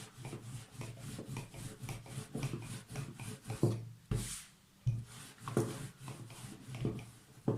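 Börek dough sheets are rolled out for water börek, a wooden rolling pin rubbing and thumping rhythmically on the dough and board, close and steady with short pauses.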